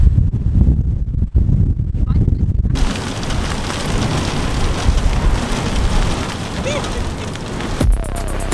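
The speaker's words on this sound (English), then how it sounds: "This is too windy to ride, isn't it?" Strong wind outdoors, too gusty for a bike ride, roaring and buffeting the microphone as a loud, continuous broadband rumble that swells after the first few seconds while a voice speaks over it.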